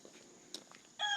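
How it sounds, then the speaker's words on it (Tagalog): A fighting rooster crows once near the end, loud and close, after a short stretch of faint farmyard noise with scattered clucks. "Wow, may manok pang panabong."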